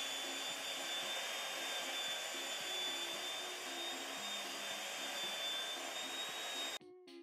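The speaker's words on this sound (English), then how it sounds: "running the belt sander the same direction, just like we did on the other one" A belt sander runs continuously, grinding a 5 to 10 degree bevel onto a steel edge with a steady, loud, high whine and hiss, cutting off abruptly near the end.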